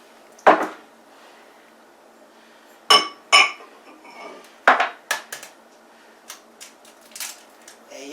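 Lasagna filling ingredients and an egg going into a bowl, heard as a series of sharp clinks and knocks against the bowl separated by short quiet gaps, then lighter taps.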